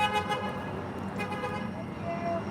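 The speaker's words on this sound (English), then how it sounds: "You guys can still hear the honks," Car horns toot over steady road traffic, a few short honks standing out against the constant rumble of passing vehicles.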